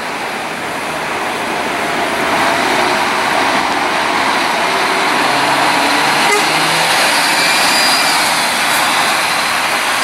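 A Campione Invictus HD coach of Real Maia at the Tietê bus terminal gives off a loud, steady broadband engine roar that swells slightly and holds for about ten seconds, with no voices over it.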